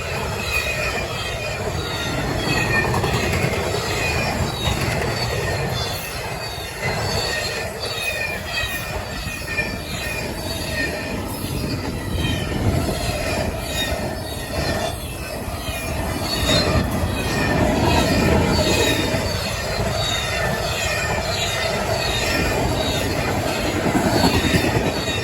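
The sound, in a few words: CSX freight train passing fast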